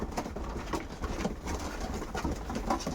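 Pigeons gathered at a feeder coo softly and repeatedly in a close, steady murmur, with no voices over them.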